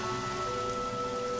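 Steady rainfall in the video game Flower, an even, dense patter with a faint tonal layer of game music running underneath, loud and unbroken throughout.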